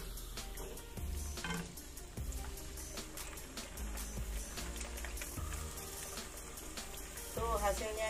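Steady sizzling and crackling of black glutinous rice crackers frying in hot oil, with occasional clinks and stirring sounds.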